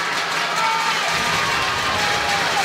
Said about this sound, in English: Crowd starting to get louder here at Finley Stadium